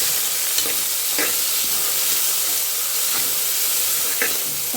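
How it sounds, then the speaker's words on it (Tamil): Onions and tomatoes sauté in a pan for a shrimp pasta biryani, giving a loud, continuous hissing sizzle with a few soft stirring taps at intervals. "தக்காளி சேர்த்து நல்லா வதக்கிக்கிறோம்"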